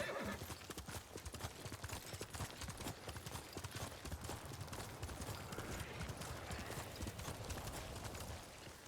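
A horse gallops in Ghost of Tsushima on Iki Island, rapid hoofbeats clattering continuously with a whinny near the start, all fairly loud and close.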